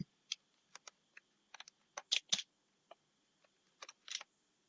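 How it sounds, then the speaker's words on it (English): Someone types on a computer keyboard, entering a file name: sparse, irregular key clicks with short bursts and gaps, close and crisp against a quiet background. "Let me type it."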